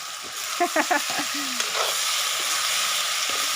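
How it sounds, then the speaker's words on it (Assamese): Chicken sizzles in a pan with onion, panch phoron and green chilli, a soft continuous frying hiss. Brief clinks and scraping stirs sound early on, and a voice murmurs faintly in the background. "কেঁচা জলকীয়া দি এনেদৰে মাংসখিনি দি দিছে এতিয়া অলপ সময় ভাজি ল'ব"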